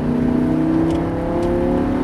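A Lamborghini Gallardo accelerates hard in fourth gear on a rain-soaked racing circuit, its engine holding a steady, loud, rising drone from close inside the car, with no talk over it.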